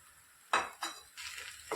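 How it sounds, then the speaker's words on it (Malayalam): Cooked rice is stirred into an egg mixture in a pan with a few separate scraping strokes, sharp bursts spaced unevenly across a quiet background, with no talking. "വേവിച്ച് മാറ്റിവെച്ച റൈസും കൂടി ഇതിലേക്ക് ചേർത്ത് യോജിപ്പിച്ച് എടുക്കാം"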